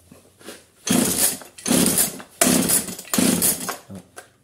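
A Husqvarna 141 chainsaw being restored is pull-started again and again, four loud, rasping recoil-cord pulls of about half a second each with short pauses between. The engine does not catch, and the sound is close and harsh.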